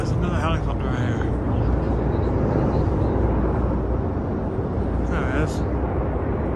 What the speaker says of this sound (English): And there's another helicopter right here.